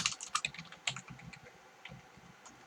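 Close, light tapping on a computer keyboard while Java code is entered, a quick irregular run of key clicks with a few louder strikes, fairly quiet and with no talking.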